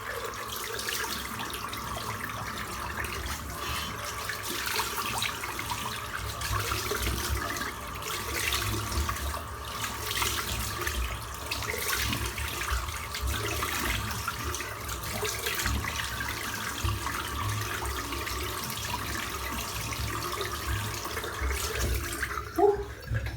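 Tap water running steadily over a shaving razor, a continuous close splash and rush of water lasting the whole stretch with a brief knock near the end.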